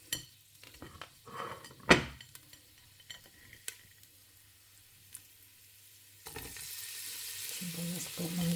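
Garlic frying in oil in a pan gives a soft, steady sizzle, broken by a few sharp clinks of a utensil against the pan early on, then growing louder and hissier near the end.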